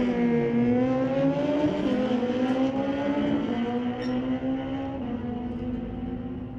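Street-legal motorcycles, a black bike and a green Hayabusa, race side by side down a quarter-mile drag strip at night, engines screaming loudly and rising in pitch through the gears in one continuous, close roar.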